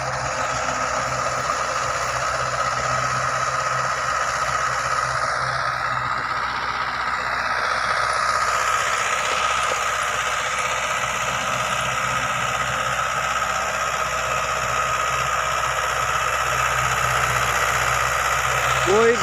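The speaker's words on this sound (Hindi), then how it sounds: "ये 6 फीट की रोटावेटर है" A Sonalika tractor drives a 6-foot rotavator with a continuous, even engine drone and mechanical hum, heard up close throughout without a break.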